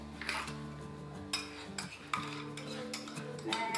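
A utensil stirs carrot paste into beaten egg and sugar in a bowl for a carrot egg pudding, with repeated scraping strokes and light clinks against the bowl over a low background hum.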